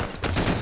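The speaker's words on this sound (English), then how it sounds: "Getting shot at from the northeast." Gunfire in a military shooter video game, a dense, loud burst of shots blending into one continuous crackling roar, with no voices.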